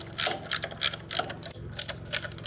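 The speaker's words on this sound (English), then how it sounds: "I'm just gonna take these 4 screws off the top right here to get the valve cover off" A hand ratchet clicks in quick repeated bursts while backing out valve cover screws on an International 574 tractor, close and moderately loud, with no talking.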